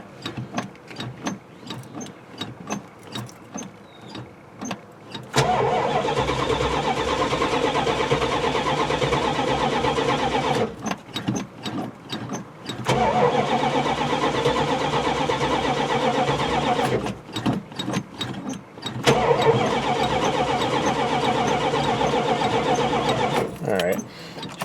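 A retired Oklahoma highway patrol cruiser's engine cranks repeatedly in three long, loud bursts, the starter churning without catching, separated by pauses with clicks and handling noises.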